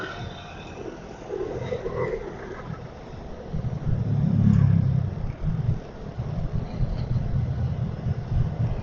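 A car drives along a road, a steady rolling rumble that swells louder midway as the engine and tires pass close, then settles back to a continuous drone with no voices.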